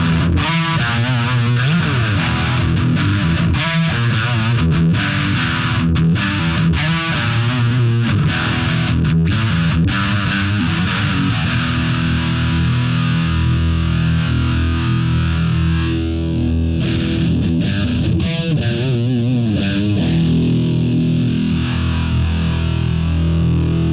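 Electric guitar runs through the Guitar Rig 6 Sledgehammer high-gain pedal, giving a loud, thick distorted tone with chugging riffs, palm-muted stops and sustained chords that play continuously without talk.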